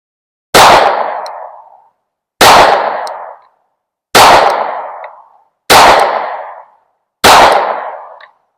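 Five loud, sharp pistol shots at a shooting range while sighting in a red dot, evenly spaced about one and a half seconds apart, each with a short ringing decay.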